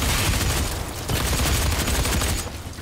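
Heavy assault rifle fire in DOOM multiplayer, a dense continuous barrage of loud shots and explosions that fills the whole stretch with little pause.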